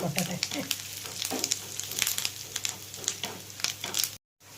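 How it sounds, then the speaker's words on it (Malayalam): Sliced onions and curry leaves frying in hot oil in a pan, a steady close sizzle with crackling pops and occasional stirring scrapes, almost alone, cutting off abruptly near the end. "സവോള മൂപ്പായി നമുക്കതിലേക്ക് ഇച്ചിരി കരിയാപ്പലയും കൂടി ഇടാം"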